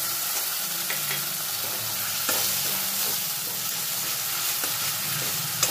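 Ginger, cumin and nigella seed paste frying in a pan with softened tomato, giving a continuous close sizzle and occasional stirring taps.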